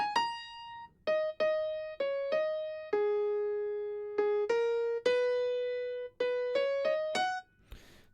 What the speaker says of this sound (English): it's just playing a simple single note run,